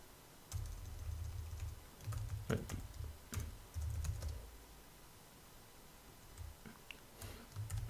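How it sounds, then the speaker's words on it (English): Soft keystrokes on a computer keyboard tap out quick clusters with short breaks between them. The typing is quiet and close, with no voices. "we want to type in here"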